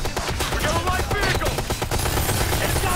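A mounted machine gun fires in the video game Ghost Recon Future Soldier, a dense, rapid stream of loud shots that runs for the full stretch.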